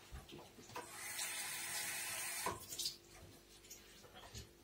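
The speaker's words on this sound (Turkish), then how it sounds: "Ellerimi yıkayayım ben." A running tap rinses hands at a kitchen sink while making börek, a steady broadband water hiss with a few splashes and shifts as the hands move, close and fairly quiet.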